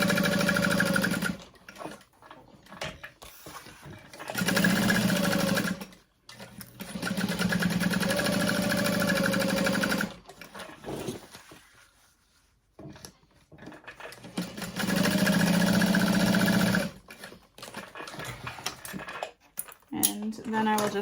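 A home sewing machine bastes a bag piece to a lining panel, whirring in several sustained runs of a few seconds each, separated by brief pauses and quieter handling.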